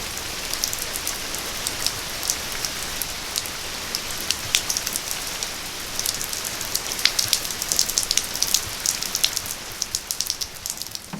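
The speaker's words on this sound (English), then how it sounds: "It is raining and I hope it's not going to be raining all day." Steady rain falls on a morning, a dense patter of drops striking surfaces with sharper close splashes scattered throughout, continuous and fairly loud with no voices.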